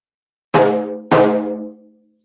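A taiko drum is struck twice in quick succession as a doro, two deep, resonant booms about half a second apart. Each boom fades slowly, close and loud, with no voices over it.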